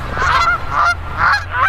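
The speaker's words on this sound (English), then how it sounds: "I'm in a field of Canadian geese and I'm recording them with my Zoom" Canada geese honking in an open field, several loud, close calls in rapid bursts with short pauses between, no voices over them.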